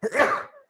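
A single short, loud sneeze-like burst from a person, close by and on its own, lasting under a second.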